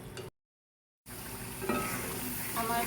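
A coconut shrimp mixture is sautéed in a pan, giving a steady sizzle with stirring scrapes; the sound cuts out briefly early on, then resumes.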